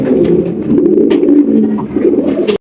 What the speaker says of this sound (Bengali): এখানে আরও একজোড়া পটার কবুতর রয়েছে ব্ল্যাক ম্যাকপাই পটার কবুতর